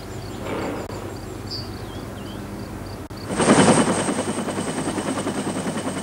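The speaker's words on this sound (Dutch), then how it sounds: "In 45 minuten zal de helikopter de arbeiders naar het platform brengen." A helicopter carrying shift workers out to a North Sea oil platform around 1980 drones steadily with a rhythmic rotor chop, then a louder, nearer wash of rotor and engine noise surges in halfway through and keeps thumping.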